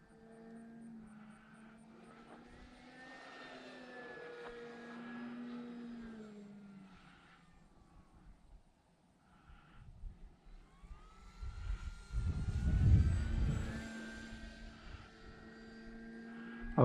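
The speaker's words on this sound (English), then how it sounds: "I just love flying this plane" An E-flite T-28 radio-controlled model plane, 1.1 m span, flies overhead, its electric motor droning faintly at a distance and rising to a louder pass near the end.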